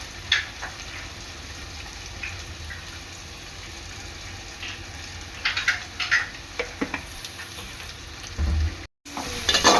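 Onion frying in a pan with salt until reddish-brown for tuna fish biryani: a steady close sizzle, broken by bursts of stirring and scraping toward the end and a brief drop-out, with no talking.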